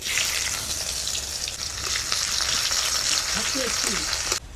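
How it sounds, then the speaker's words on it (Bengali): Chopped onion frying in hot mustard oil with panch phoron gives a loud, steady hissing sizzle up close, running without a break before cutting off abruptly. "পাঁচ ফোড়নটা ভাজা হয়ে গেছে। এবারে দিয়ে দেবো একটা পেঁয়াজ কুচি।"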